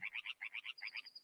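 Frogs croaking in the Zelda Ocarina of Time randomizer video game, a quick run of about nine evenly spaced, bright chirping croaks ending in a thin sustained tone, fairly quiet and heard alone.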